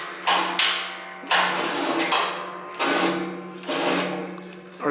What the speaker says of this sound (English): You can see where it won't stall the motor, but it puts it under pretty good load and seems to have pretty good torque